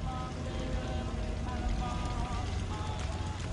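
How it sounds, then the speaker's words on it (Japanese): A turret moves and tracks in the Fallout 4 video game, giving a continuous mechanical whir with faint tonal hums that sits steadily within thick background game noise. "ダレットの音だねえダレットが動いてる音"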